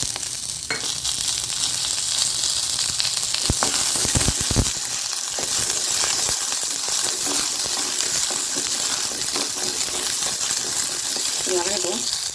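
Onions for kara chutney hitting hot oil in a pan with a loud, bright, steady sizzle, a few clinks and taps from the utensil near the start, and brief voice sounds toward the end.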